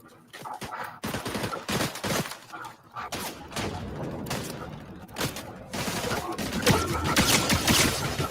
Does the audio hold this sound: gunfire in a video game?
yes